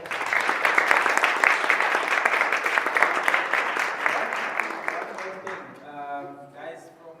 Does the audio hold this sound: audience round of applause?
yes